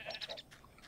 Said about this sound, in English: Sheep and chickens.